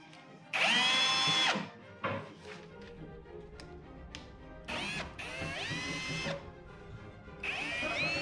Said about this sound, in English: give it a little bit of a push up to make that chip auger bit bite